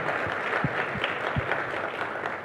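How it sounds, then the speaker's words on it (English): An audience at the Asus ZenBook Duo launch event claps steadily, a dense wash of applause with a few louder individual claps standing out near the start. "This itself deserves a round of applause for Asus."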